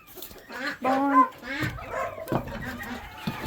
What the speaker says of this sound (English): This is my brown red old English rooster